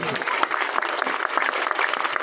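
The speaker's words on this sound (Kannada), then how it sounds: "ಮತ್ತು 2011 ಬ್ಯಾಚ್ನಾರ ಈ ಶಿಕ್ಷಕರಿಗೆ ನೀವು ಒಂದು ಜೋರಾಗಿ ಫಸ್ಟ್ ಒಂದು ಚಪ್ಪಾಳೆ ಹೊಡೀರಿ" Audience applause for teachers of the 2010-11 batch at a school alumni teacher-honouring ceremony, a dense, steady burst of many hands clapping together, loud and sustained.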